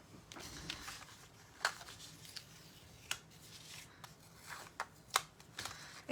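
Quiet crisp snipping and crackling as a die cutting machine slices through a couple of layers of paper for a folding reindeer card, with scattered sharp clicks over a low steady hum.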